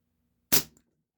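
A Daisy Powerline 1200 air gun fires a single sharp, close crack that decays quickly into a faint mechanical clack, set against near silence.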